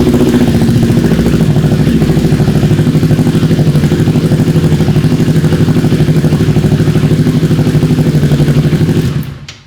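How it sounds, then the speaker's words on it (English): A Kawasaki Ninja 400 sportbike, fitted with a Power Commander V and quick shifter, runs loud and close at a steady, even idle-like drone throughout before cutting off abruptly at the end. "Let's start the bike to make sure."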